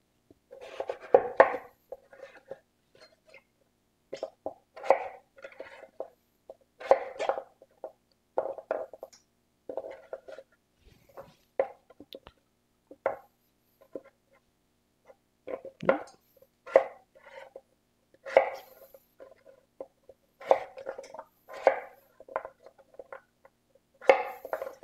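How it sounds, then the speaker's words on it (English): A knife chopping butternut squash into large dice on a cutting board, close sharp knocks and thuds in irregular bursts with short pauses between cuts, no talking. "Now you just want to cut this up in large dice."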